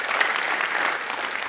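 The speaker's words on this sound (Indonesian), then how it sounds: "Berikan tepuk tangan buat Tuhan Yesus." A church congregation applauds in a dense, even burst of clapping from many hands that fills the whole moment.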